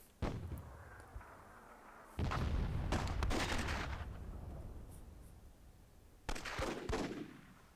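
Fire grenade and bazooka blasts in the game Myth II Soulblighter: three booming explosions, a short one near the start and two heavy ones with long rumbling decays, loud and without voices.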